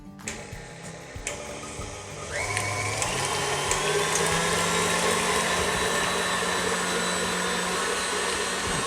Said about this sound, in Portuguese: eu vou colocar os ovos e o açúcar na batedeira e vamos bater essa massa até ficar bem esbranquiçada